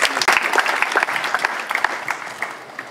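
A congregation claps at a funeral service, a steady patter of many hands applauding nearby that gradually thins and fades out.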